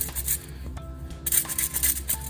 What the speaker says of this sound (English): I'm going to grate it on top for the topping, okay? Grate it all over the top.